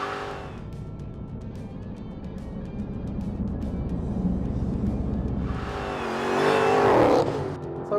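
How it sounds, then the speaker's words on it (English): A Ford Mustang GTD supercar in track mode, with lowered suspension, on the New York Safety Track. Its engine roars steadily and then surges into a loud, rising rev near the end. "Now, the GTD is in track mode, suspension lowered and aero at its most effective"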